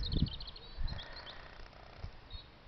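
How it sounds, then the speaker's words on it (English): Birds chirp and trill faintly in the early morning outdoors at an allotment, with short high calls scattered across the clip over quiet wind and a few low thumps. "You can hear the birds singing."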